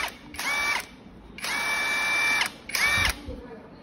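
A HUKAN 533 cordless drill whirring in three bursts, a short one, a longer steady run and another short one, with a high motor whine close to the listener and quiet room noise between the bursts.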